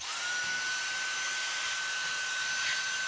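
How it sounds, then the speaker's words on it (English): A vacuum cleaner runs steadily and loudly close by while cleaning out the area around a leaking furnace humidifier, with a constant high whine throughout and no talking. "From here, I'm going to vacuum this entire area out."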